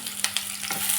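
Sliced onions with cardamom sizzle in a hot pan for a paneer butter masala, with a steady fry hiss broken by a few quick stirring scrapes close by.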